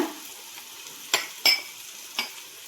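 Chicken frying in a pan with turmeric powder, a low sizzle broken by three or four sharp stirring scrapes of a spoon against the pan, close and without talk.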